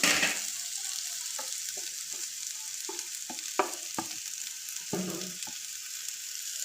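Coconut pieces fry in oil with brinjal in a pan, a soft steady sizzle with intermittent stirring clicks and scrapes, close and fairly quiet.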